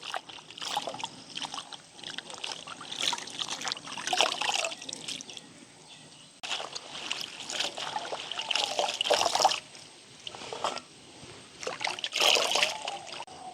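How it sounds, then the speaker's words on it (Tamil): Spinach-like greens from a village garden being washed by hand in water, with repeated splashing, trickling and sloshing in uneven bursts, close and fairly loud, no talking. "இப்போ நல்ல வடிவாக கழுவி எடுத்துட்டோம்"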